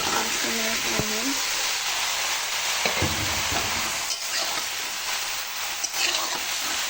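Chopped bottle gourd going into a pan of lightly fried prawns, a steady frying hiss with a few stirring knocks and scrapes, while a person talks over it.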